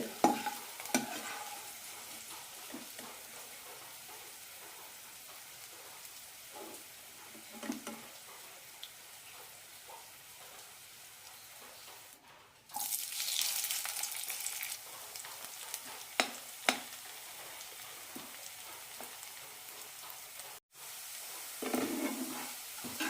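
Snake gourd pieces fry in a pan with a steady low sizzle, broken by occasional scraping stirs and turning of the pieces, with one louder stretch of stirring partway through.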